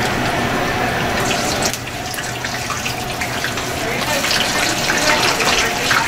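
Pork rind skin fries in hot oil, a loud continuous bubbling hiss that carries on throughout and swells a little toward the end.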